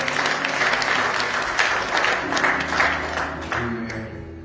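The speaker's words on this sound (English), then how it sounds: "Let's give the Lord a hand clap of praise for the man of God." A church congregation at a Baptist spring revival claps in praise, a dense, sustained burst of hand claps filling the room with organ-like tones underneath, fading slightly toward the end.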